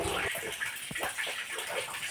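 Natural spring water at a mountain shrine spills out on its own in a steady, close gushing splash that fills the whole stretch, with no talking.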